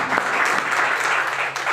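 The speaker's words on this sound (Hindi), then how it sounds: "जोरदार तालियां।" Enthusiastic audience applause fills a short burst at a health product presentation, dense and loud clapping from a crowd, close and continuous throughout.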